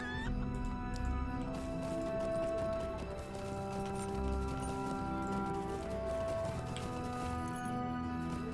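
Chickens cluck in the fantasy online game Lord of the Rings Online, with steady game music and ambient sound over them throughout.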